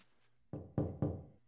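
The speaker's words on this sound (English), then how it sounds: "Knocking on this cask results in a hollow thud." Three hollow knocks on an empty wine cask in the Eternal Darkness video game, evenly spaced, dull and woody, close and clear against near silence.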